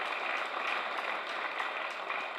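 Audience applause fills the space as a dense, even wash of many hands clapping at once, sustained at moderate loudness without a break.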